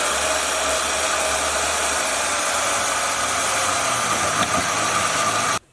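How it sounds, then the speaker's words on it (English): A bandsaw cuts a part for a Jeep JLU Clayton Offroad 2.5-inch lift kit, giving a steady, loud, close whirring hum with a faint bite of blade on metal near the end before it stops abruptly. "So I'll be doing that now with the bandsaw and getting this thing all ready to go."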